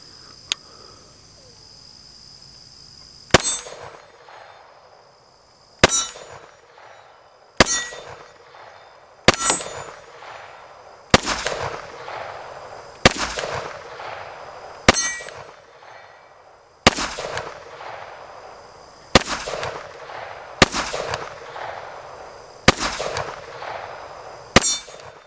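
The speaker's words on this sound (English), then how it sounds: "I've got a target downrange at about 15 yards, and we're just going to do just a little bit of shooting." Canik TP9DA 9mm pistol fired at a target about 15 yards downrange outdoors, a dozen sharp, loud reports spaced a second or two apart, each ringing out with a short echo over steady insect chirping.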